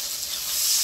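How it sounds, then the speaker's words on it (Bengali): Water poured into a pan of fish curry with spiced masala gives a steady, close bubbling sizzle with a soft hiss throughout, rising slightly toward the end. "এখন আমি এই যে ঝোলের জন্য জল দিয়ে দেব।"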